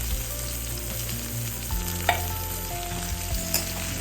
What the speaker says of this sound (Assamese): গুড়খিনি অকণমান লাৰি দিওঁ।